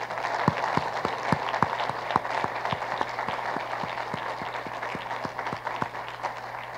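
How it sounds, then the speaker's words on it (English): Audience at a university State of the University address breaking into applause, a roomful of hands clapping steadily at a moderate distance, a few louder claps standing out. "So please give yourselves a round of applause."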